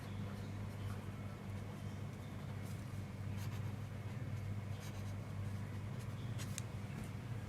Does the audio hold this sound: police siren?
no